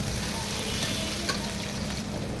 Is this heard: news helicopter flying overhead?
no